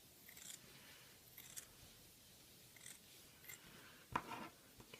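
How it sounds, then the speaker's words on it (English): Scissors snip through upcycled sweater felt in a few soft, close crunchy cuts, quiet and spaced unevenly, with one slightly sharper snip near the end. "Going to cut."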